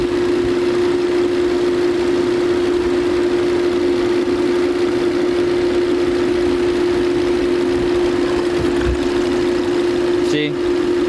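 A 2012 Volvo S60 engine idles rough with the cylinder 3 ignition coil pulled, a loud, steady hum with a strong low tone and a faint uneven beat throughout. A brief clatter comes near the end.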